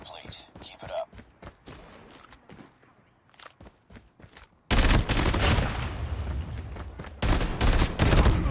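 Loud bursts of automatic gunfire in the mobile shooter game Call of Duty Mobile start abruptly midway and continue in rapid rattling volleys, with a player's voice heard earlier over faint in-game footsteps.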